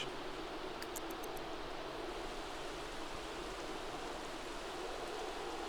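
Rain falls in The Sims 3 as a soft, even hiss of steady downpour with a faint few high ticks near the start and no speech.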